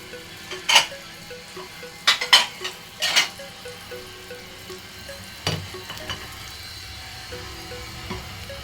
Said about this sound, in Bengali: হালকা হালকা করে ভাজা দেব